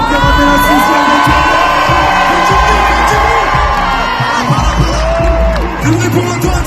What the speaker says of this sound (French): un maximum de bruit pour Antoine Dupont